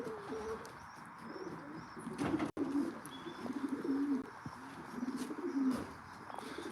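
Racing pigeons coo softly in a loft, repeated low throaty burbling calls close by, with faint chirps and a brief flutter of movement in the background.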